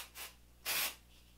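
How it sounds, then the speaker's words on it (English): Living Proof Full Dry Volume Blast Spray sprayed onto hair at the roots, two close aerosol hisses, a short faint burst followed by a longer, louder one of about a third of a second. "It's the Living Proof Full Dry Volume Blast Spray."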